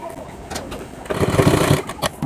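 A sewing machine stitches a princess cut blouse, fabric chain area, running in a steady whirring burst that grows louder partway through, with brief start-stop pauses.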